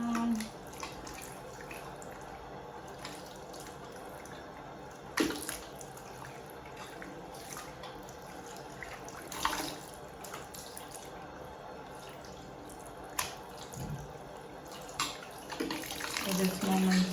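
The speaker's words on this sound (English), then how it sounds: "I will just rinse it and put it in cold water and just rinse it from the base down." Hair extensions being rinsed under a cold running tap, heard as a steady close rush of water with splashes and occasional knocks, and a voice speaking at times over the flow.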